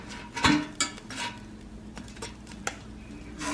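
Food being flipped over in the basket of a Bagotte Air Fryer XL 5QT: a few brief clatters and taps close by, one sharper knock near the start and softer handling noises after, with no talk.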